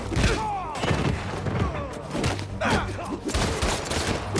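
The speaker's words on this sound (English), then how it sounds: "he just straight up shot his friend" Gunfire in the video game Spider-Man 2 rings out as a burst of several sharp shots and thuds, moderately loud and mixed with other game sounds and some speech.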